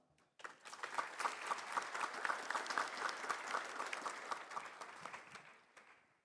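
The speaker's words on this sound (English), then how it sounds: "please greet Judge Lee with a warm round of applause" Audience applause at a conference session, a sudden burst of many hands clapping, sustained and fairly dense for several seconds before tapering off near the end.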